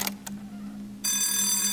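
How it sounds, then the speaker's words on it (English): Electronic alarm ringing in the horror video game Asylum, a steady bright electric ring that starts partway in, loud and continuous, after two faint earlier bursts. "Oh, this alarm is still working."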